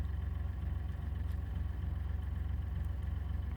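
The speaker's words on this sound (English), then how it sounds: "That's one of the tractors." A farm tractor engine runs outside a window, a steady low pulsing rumble heard faintly and continuously through the indoor room.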